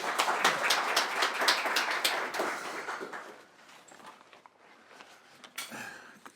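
An audience at a book launch applauds a speaker with brisk, dense clapping that trails off after a few seconds into a quiet room with a few scattered claps and small noises.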